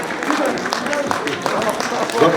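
An audience applauds a happy couple at a Ukrainian song performance, a dense wash of clapping with speech running over it from start to finish.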